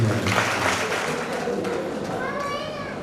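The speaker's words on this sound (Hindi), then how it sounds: "चलो एक बार ताली तो बजाई दो" Clapping from an audience at an evening religious discourse, busy at first and thinning out, with children's voices and chatter mixed in.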